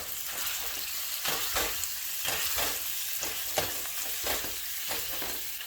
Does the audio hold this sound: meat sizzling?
yes